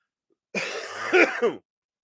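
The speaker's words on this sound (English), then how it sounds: "That's why I'm coughing all the goddamn time." A single short, harsh cough bursts out close up, lasting about a second between moments of silence.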